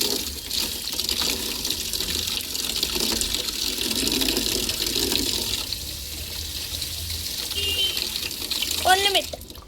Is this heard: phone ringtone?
no